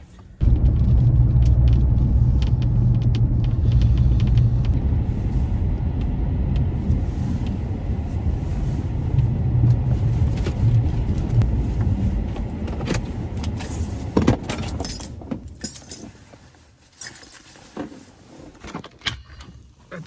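A quiet car interior while driving, with a low steady engine and road rumble that is strong at first and eases off, followed by scattered clicks and knocks near the end.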